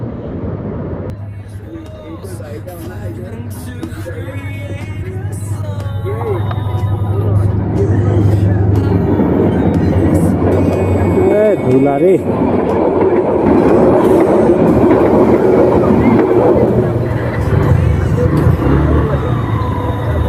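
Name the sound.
trains passing a railway level crossing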